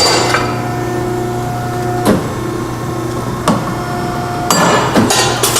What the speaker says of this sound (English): One nice feature is you can also miter on this angle shear.